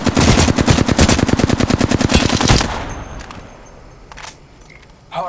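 Rapid automatic gunfire from a weapon in Apex Legends rattles loudly in a fast, steady burst for over two seconds, then fades into faint game ambience with a couple of distant hits.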